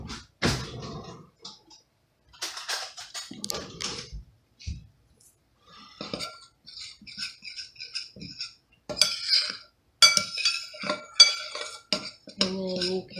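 A utensil mixes dry ingredients for chicken and dumplings in a bowl, giving scattered light clinks and scrapes in uneven bursts with quiet gaps between them.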